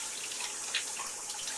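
Water runs from a tap supplied by a freshly repaired bore pump, a steady broadband hiss with a brief splash partway through, fairly faint and without voices.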